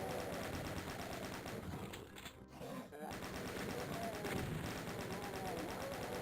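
Rapid, sustained automatic fire from a chaingunner in Doom II, dense rattling bursts running nearly throughout with a brief dip in the middle, loud and close.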